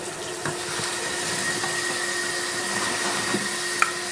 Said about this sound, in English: Turn that water back on for me.